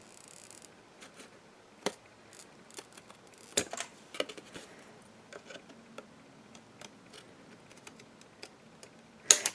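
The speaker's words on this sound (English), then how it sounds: "Come right up to your paper and just give it a snip." Scissors snip through pattern paper in a series of crisp, irregular cuts close to the microphone, quiet between snips, with a small paper rustle at the end.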